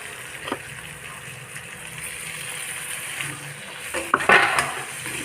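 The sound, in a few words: paneer and vegetables frying in a pan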